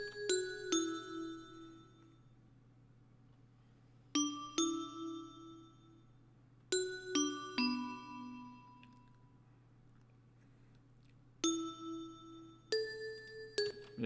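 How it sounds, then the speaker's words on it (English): Bright synth bell notes in an FL Studio trap-style beat ring out in short clusters of two or three strikes every few seconds, each decaying over a steady low bass hum, with no voices. "So I added a couple of bells here."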